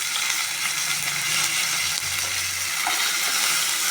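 Chopped green chillies and curry leaves sizzling in hot oil in a pan: a steady, loud crackling hiss throughout with a faint low rumble, no voices.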